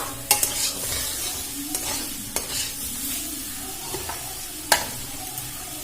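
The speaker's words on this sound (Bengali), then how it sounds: "আমি ভালো করে ভেজে নেব।" Potato and papaya pieces fry in a pan for a Bengali vegetable dalna, with a soft continuous sizzle broken by sharp, scattered scrapes and knocks of a spatula stirring close by.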